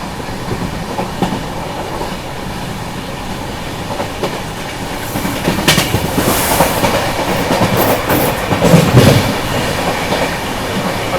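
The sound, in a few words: passenger train passing alongside on railway line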